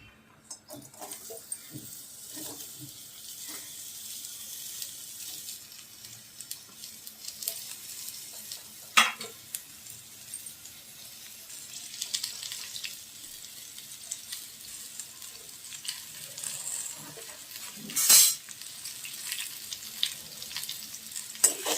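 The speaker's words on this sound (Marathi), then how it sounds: "त्यात आता 2 चमचे तेल घालते. आणि कांदा परतवायचा." Chopped onion fries in two spoons of oil in a pan on a gas stove, a soft, continuous sizzle broken by occasional louder stirring scrapes and clinks.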